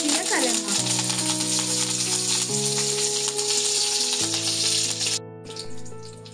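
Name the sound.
cumin, mustard seeds and chillies sizzling in oil for tempering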